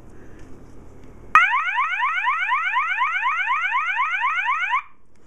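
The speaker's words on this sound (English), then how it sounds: "As you can hear, it's a slightly slower version of the warble, or the fast warble tone on the normal MAs." An MA series fire alarm sounder blasts a fast whoop tone, rapid repeated rising sweeps starting abruptly after a quiet moment and running loud and steady for about three seconds before cutting off.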